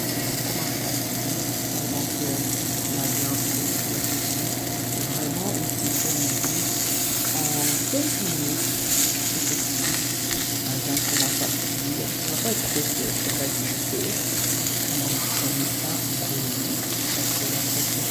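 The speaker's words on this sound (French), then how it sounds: "c'est un oignon que j'ai mis dans mon huile de friture" Onion and pork pieces frying in hot oil for pork chops, giving a steady, loud sizzle with a dense crackle that runs throughout, plus occasional stirring scrapes and clicks.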